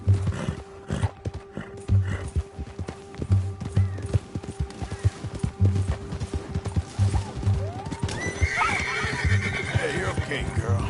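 A horse in the Red Dead Redemption 2 video game whinnies loudly while its hooves clip-clop in a steady galloping rhythm, with a voice speaking over the action.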